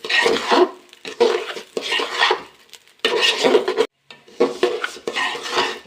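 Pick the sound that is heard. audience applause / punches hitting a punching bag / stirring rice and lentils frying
stirring rice and lentils frying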